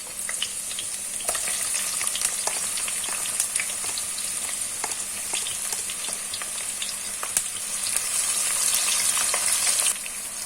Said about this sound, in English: Once the oil is heated up, we're going to add half of the chopped onions that we sliced earlier.